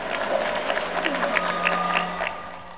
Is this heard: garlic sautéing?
no